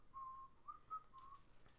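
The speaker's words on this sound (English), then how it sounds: "Why are you whistling the Kill Bill thing?" A person whistles the Kill Bill theme, a short faint melodic phrase of several sustained notes heard alone.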